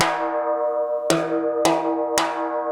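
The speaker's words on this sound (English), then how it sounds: "occasionally you might play a rim shot on the high drum" Three sharp, bright rim shots crack on the high timbale drum at an even pace, each cutting through a sustained metallic ring that carries on beneath them, close and loud with no voices.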